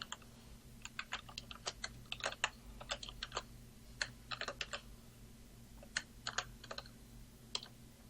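Typing on a computer keyboard to enter text in a translator app, irregular bursts of crisp close key clicks with short pauses between them over a quiet low hum.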